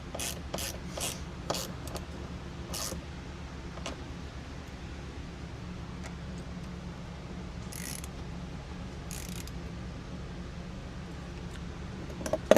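Sporadic ratcheting clicks and scrapes from tightening bolts on a Ranch Armor metal top fitted to a Polaris Ranger 1000 Northstar, set over a steady low hum at moderate volume.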